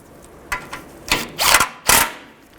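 Bolts being tightened on the engine shield of a 2005-15 Nissan Xterra: a few short, close mechanical bursts of a tool turning fasteners, separated by brief pauses.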